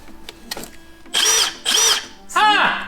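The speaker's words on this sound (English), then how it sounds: "It's a drill." A small Milwaukee drill whirs in three short bursts, each about half a second, rising and dipping in pitch as the trigger is squeezed, close and loud, after a few faint handling clicks and brief voices.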